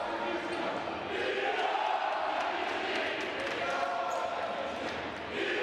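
A basketball arena crowd at a Basketball Champions League game between Nizhny Novgorod and Lublin, a broad steady roar of cheering and murmur filling the hall, with a commentator speaking over it.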